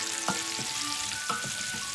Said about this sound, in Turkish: Rengi dönene kadar biz bunu kızartacağız.